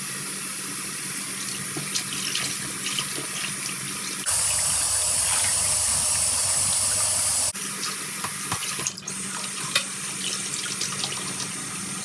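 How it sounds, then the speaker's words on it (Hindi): A kitchen tap runs steadily as sacrificial meat is washed in a large strainer, with a constant close hiss of flowing water that swells into a louder, fuller gush for a few seconds before settling back to a lighter stream. "इसमें हम गोश्त धो धो के रखेंगे"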